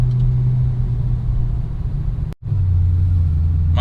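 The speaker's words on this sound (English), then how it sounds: "it's a little loud for like daily driving. So when you get it out on the highway, it does have a little bit of a drone." Steady low engine drone heard from inside a car while driving, a loud continuous hum with a brief dip as the pitch steps down, as if shifting gears.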